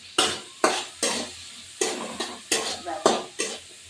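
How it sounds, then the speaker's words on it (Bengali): Onions fry in a pan with chillies, salt and turmeric, stirred in a series of about eight quick scraping strokes over a soft background sizzle. "একটু পেঁয়াজ ভাজা হোক"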